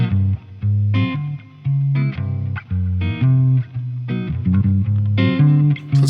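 An electric guitar plays through channel 1 of a DiBiQuadro JupiterXTC amplifier with plate reverb, giving a sequence of gritty, distorted notes and chords with short gaps between phrases; no voice is heard.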